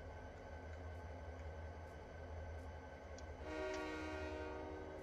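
Train horn from the Train Simulator 2019 video game: a steady low rumble, then a loud sustained horn tone blowing over the background near the end.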